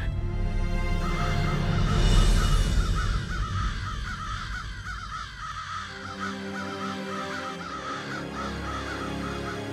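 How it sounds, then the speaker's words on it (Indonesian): Several crows caw repeatedly over a palace, a rhythmic series of harsh calls above a dense rumbling bed that drops away midway, leaving the cawing clearer and fairly close. "kenapa banyak gagak terbang di atas istana?"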